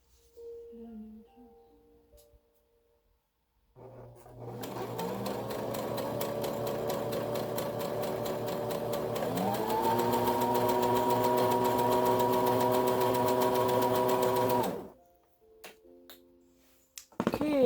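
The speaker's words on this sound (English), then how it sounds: "take the 1/2 and fold it together and sew it down the long side." A sewing machine stitches the long side of a folded bandana back piece, a steady close mechanical whir running for about ten seconds after a pause, speeding up partway, then stopping abruptly amid quiet handling noises.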